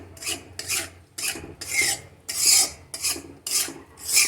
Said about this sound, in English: See guys, how nicely Pannaba is roasting these pista granules